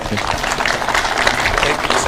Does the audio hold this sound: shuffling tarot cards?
no